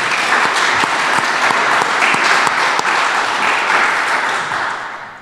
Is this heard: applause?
yes